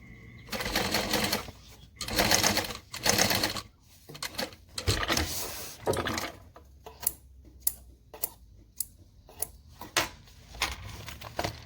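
A home sewing machine stitches a seam around a garment piece in bursts, each run of rapid mechanical whirring separated by short pauses and clicks, with sharper ticking taps toward the end; close and fairly loud, no talking.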